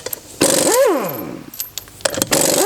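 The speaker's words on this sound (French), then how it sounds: "on dévisse la roue" A wheel is being unscrewed for a front right bearing job on a Citroën C4 Picasso: a power tool whirs up and winds down in a loud pitch sweep, followed by clanks and a second burst, close by.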